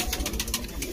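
Domestic pigeons at a pigeon keepers' club cooing in soft repeated bursts, close by and fairly steady across the second.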